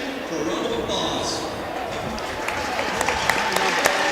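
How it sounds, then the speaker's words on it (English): Applause for teachers rising at an ice arena during a junior varsity hockey game, a broad steady wash of clapping from the crowd lasting several seconds, with sharper claps near the end. "Will the teachers please stand for a round of applause?"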